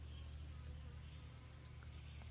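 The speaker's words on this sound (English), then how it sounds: "Can you hear that bee when it comes near?" A low, steady buzzing drones close by, holding a constant pitch throughout with no pauses.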